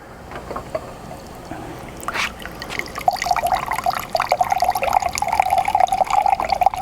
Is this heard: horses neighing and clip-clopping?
no